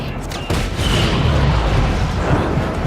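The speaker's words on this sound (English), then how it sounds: "Just Cause 3 has some of the best and most empowering explosions" Loud, rumbling explosions from the video game Just Cause 3, a sudden burst followed by continuous booming and crackling blasts that fill the whole moment, up close and dense.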